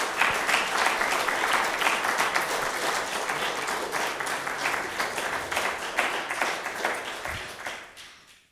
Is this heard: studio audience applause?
yes